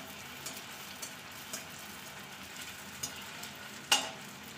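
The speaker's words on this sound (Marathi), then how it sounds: "आता आपण तेलमध्ये बॉईल टाकून घेऊया आणि याला फ्राय होऊ द्या चांगला आपण" Potato balls frying in hot oil, a soft steady sizzle with a few small pops and one sharper crackle near the end, fairly quiet and close.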